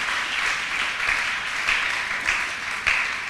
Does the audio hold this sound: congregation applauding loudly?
yes